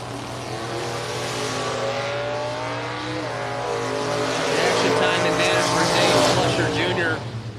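Chevrolet S10 drag racer roaring down the strip alongside another car at a fall drag racing meet, with a loud sustained engine drone that rises and then cuts off, heard under a track announcer's voice.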